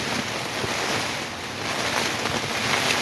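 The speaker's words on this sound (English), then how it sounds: "We've got a little bit of wind." Steady outdoor wind rushing and buffeting a microphone on a blustery, rainy day, a broad continuous roar that stays fairly loud and constant throughout with no talking.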